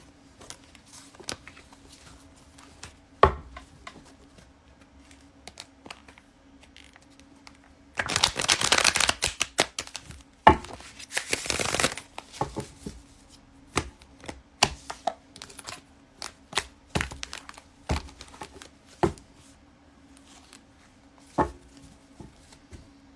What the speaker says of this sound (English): Do I deal it or cut the deck? Shuffle again.